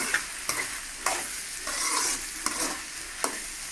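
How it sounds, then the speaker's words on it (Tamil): A spoon stirring potato poriyal with turmeric powder in a pan, with rhythmic scrapes every half second or so over a soft continuous sizzle, close and fairly loud. "மஞ்சள் தூள் சேர்த்துட்டு அப்படியே கிளறி விட்டுருங்க"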